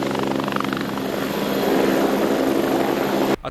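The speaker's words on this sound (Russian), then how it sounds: "Это презентационный полет вертолета." An Ansat helicopter on a demonstration flight gives a loud, steady rotor and turbine roar with a rhythmic blade chop, close and continuous before cutting off abruptly at the end.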